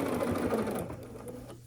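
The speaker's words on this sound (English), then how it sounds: "we're gonna start sewing here, a 1/4 inch seam allowance along this side of the block" A sewing machine stitches a quarter-inch seam along the side of a quilt block, a steady close mechanical whir that eases off after about a second into quieter running.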